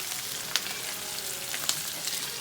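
Food sizzles steadily in a hot pan on a stovetop as a simple kids' summer meal is stirred, a continuous bright crackle with a couple of sharper clinks from the utensil, no talking.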